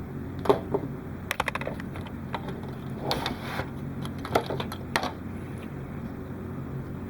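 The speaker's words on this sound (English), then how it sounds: "let's snip off the extra leg off of this piece" Wire cutters snipping the excess leg off an electronic component, several sharp, brief clicks scattered over a few seconds against a quiet room background.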